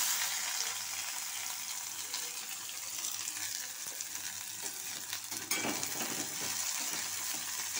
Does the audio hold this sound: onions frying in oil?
yes